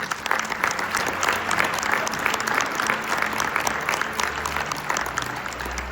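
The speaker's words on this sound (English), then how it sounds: "Let us give them a round of applause." Sustained applause from a crowd at an awards ceremony, steady dense clapping filling the room throughout, with low rumbling noise near the end.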